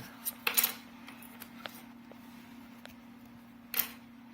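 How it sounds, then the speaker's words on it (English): Plastic side plates of a FlexRC Ascent 2-inch drone frame snap into an interlocking mechanism, giving a few faint, sharp clicks near the start and one more near the end against a quiet background hum. "Slide this one in there, that one clicks in like that."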